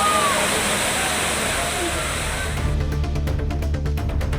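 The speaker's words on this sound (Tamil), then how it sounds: "பொள்ளாச்சி அருகே ஆழியார் கவி அருவியில் சுற்றுலா பயணிகள் குளித்து மகிழ்ந்தனர்" Aliyar Kavi Falls near Pollachi pours down in a steady, loud roar where tourists bathe, with a voice speaking over the rushing water for the first half before it shifts into choppier splashing.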